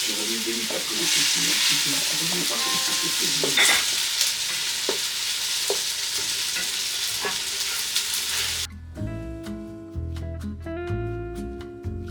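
Red peppers fry in a pan with a loud, continuous sizzle and occasional stirring scrapes, then the sizzle cuts off and a steady, tonal hum with faint clinks follows.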